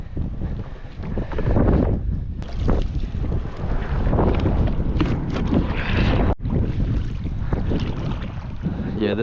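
Strong gusty wind beside a shallow canal buffets the microphone in loud, rumbling surges that rise and fall throughout, with a brief dropout midway.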